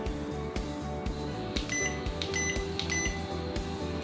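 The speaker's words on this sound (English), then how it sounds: "has a timer as well, so it'll ding when it's ready" An automatic hair curler's timer dings with a few short high beeps over a rhythmic low mechanical hum, close and fairly clear, no voices.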